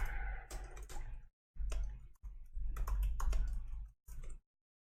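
Computer keyboard typing as an apt-get update command is entered while setting up a Bitcoin Lightning node: close, irregular bursts of key clicks with short pauses between them.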